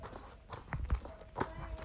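A mare named Perle trots around outdoors, her hooves giving a soft, uneven clip-clop at a moderate distance, with faint background sound and a murmur of voice.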